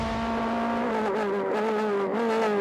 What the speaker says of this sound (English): Dennis Olsen spinning out.